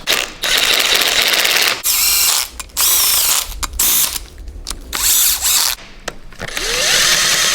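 Duramax cylinder head bolts are backed off with a ratchet, heard as loud, close bursts of rapid ratcheting separated by short pauses as each bolt is turned.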